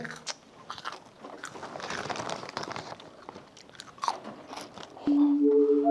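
Someone biting and chewing crunchy food close up, with irregular crisp crunches and soft mastication sounds at a fairly quiet level, and a brief voice near the end.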